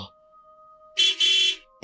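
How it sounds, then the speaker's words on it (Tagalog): Car horn honking at night, two loud blasts close by after a quiet pause, with a faint steady tone underneath. "Bumusina ang driver."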